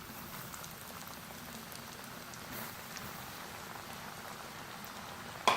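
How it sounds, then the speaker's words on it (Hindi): Chicken popcorn pieces frying in hot oil over a medium flame: a steady, dense crackle and bubbling sizzle throughout, close and even, with a short louder clatter at the very end. "थोड़े से पीस बच गए हैं, 4 से 5 अदद है, उनको भी फ्राई कर लेंगे सेम उसी तरह।"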